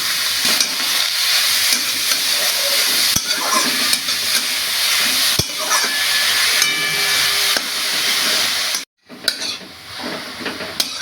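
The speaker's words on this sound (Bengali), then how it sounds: "এবার সেই কড়াইটাতেই আমি এই গ্রেট করা গাজর দিয়ে একটু ভেজে নিচ্ছি।" Grated carrot fries in a wok for carrot pudding, with continuous loud sizzling and frequent scraping and clinking from stirring, broken by a short pause near the end.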